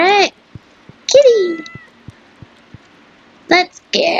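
A cat in a farming video game meows several times, loud and close, with a soft ticking pulse running between the calls and a brief bit of speech at the end.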